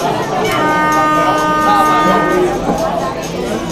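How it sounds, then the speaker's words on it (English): A spectator's foghorn sounds at a women's European club football final, a steady held tone about a second and a half long rising over crowd noise and talk. "Somebody seems to be blowing a foghorn at the game"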